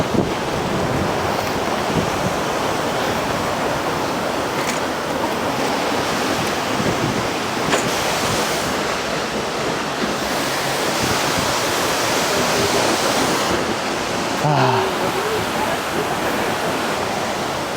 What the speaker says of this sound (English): Man, the waterfalls in Iceland